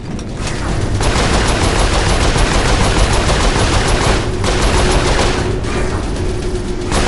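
Sustained turret machine gun fire in a video game, a dense, continuous roar of rapid shots running almost the whole time with only brief dips, loud and close, with no talk over it.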